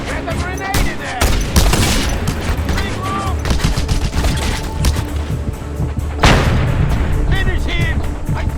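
Gunfire and a grenade blast from the video game Just Cause 2, a dense continuous barrage of loud shots and booms that swells again near the end, with game voices shouting over the battle.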